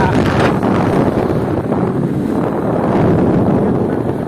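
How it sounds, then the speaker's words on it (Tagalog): Strong wind roars and buffets the microphone in a loud, continuous rumble with no break. "Mabigat na hangin."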